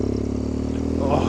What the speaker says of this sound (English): that exhaust. I have missed that exhaust